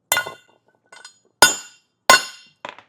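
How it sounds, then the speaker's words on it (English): A hammer strikes threaded bushings into place for an underbed fifth-wheel trailer hitch kit. Three loud, sharp metallic clanks ring out at even intervals, each followed by a lighter tap. "generally a quick smack of the hammer will draw it in"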